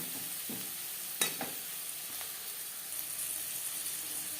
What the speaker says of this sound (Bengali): পেঁয়াজ অবশ্যই লালচে করে ভেজে নেবেন না হলে এই রান্নার ঠিকঠাক স্বাদ আসবে না